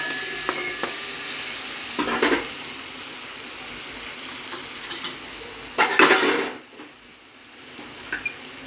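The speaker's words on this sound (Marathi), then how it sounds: "आणि आता लसूण हिरवी मिरचीचा ठेचा घालायचा मिक्स करून घ्यायचं थोडंसं परतून घ्यायचं" Garlic and green chilli thecha sautéed in a pan, a faint steady sizzle broken by a few brief spoon scrapes and clinks, with a louder burst of stirring near the end before the frying noise drops away.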